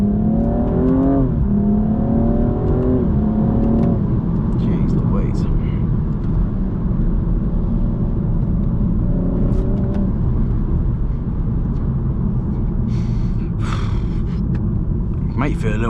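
BMW M235i engine accelerating in sport mode with valves open, a loud rising rumble and roar heard from inside the car, climbing in pitch through gears, with someone talking over it.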